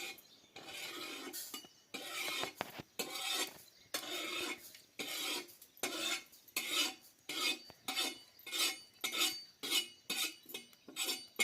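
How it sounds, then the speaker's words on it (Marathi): Sesame seeds dry-roast in a pan while a spoon scrapes and stirs them in steady rhythmic strokes. The rasping comes up close and fairly loud, with no talk. "तीळ भाजत चांगले भाजून घ्यायचे"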